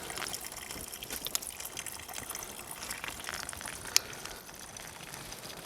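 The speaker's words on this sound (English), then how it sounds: "This one's got water just running through it." Water trickling and gurgling through a hollow fallen tree beside a canyon stream, a constant bright splashing flow with faint drips, one sharp click standing out near the end, outdoors and nearby.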